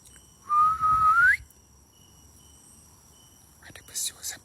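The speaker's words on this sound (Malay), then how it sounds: "Ada bersiul." Someone whistles one sustained, steady note that bends upward at the end during a quiet nighttime paranormal investigation. It is followed by a long silence and then faint breathy noises.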